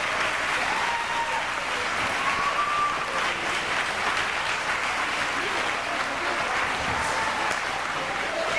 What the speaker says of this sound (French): à eux aussi, je vous demanderai de les applaudir chaleureusement